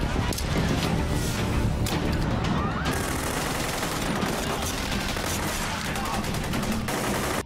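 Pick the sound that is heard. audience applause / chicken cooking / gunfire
gunfire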